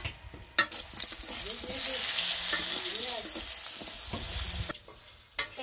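Pointed gourd (potol) fries in hot oil, a steady close sizzle broken by sharp clicks and scraping as the pieces are stirred and turned in the pan.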